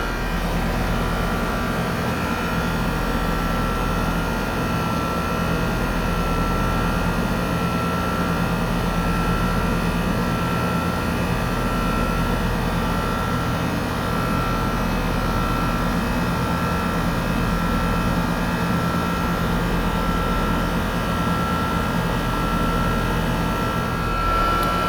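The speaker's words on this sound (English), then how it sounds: "Well, we've got 9 amps, so we're definitely running the compressor." An HVAC air conditioner with its compressor running, a loud, steady mechanical drone with a deep low hum and constant broadband rush, unchanging and continuous throughout, heard close without any talk.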